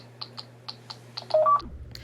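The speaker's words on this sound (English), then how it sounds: "That's Nova, who found her baby monitor on the ground" Baby monitor buttons pressed by a toddler, giving a run of short, close electronic beeps at an uneven pace, followed by a brief louder tone and a low rumble of handling noise.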